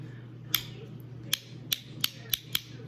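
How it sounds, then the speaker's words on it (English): On a Regal 2665 boat's switch panel, a plastic switch post snicks into place with a series of six small, crisp clicks spaced irregularly over about two seconds, close and fairly quiet over a low hum. "Post just slides back in there, and you snick it down."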